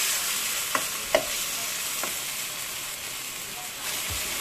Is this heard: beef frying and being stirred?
yes